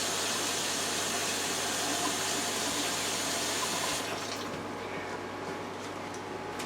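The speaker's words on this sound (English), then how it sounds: "wash my hand again" Tap water runs steadily into a sink while hands are rinsed, a continuous close splashing hiss that thins slightly near the end, with no talking, in a kitchen during seafood seasoning.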